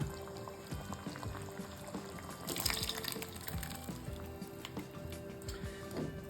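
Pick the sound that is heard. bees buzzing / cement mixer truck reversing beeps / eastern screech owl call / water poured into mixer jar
water poured into mixer jar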